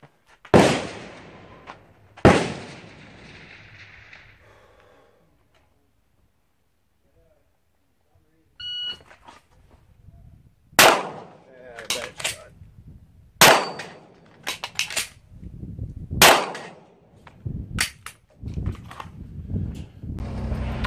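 Live-fire practice at an outdoor gun range: a run of sharp, loud gunshots, several spaced apart and some in quick pairs, come after a quiet stretch, with earlier loud bangs and brief talk near the start.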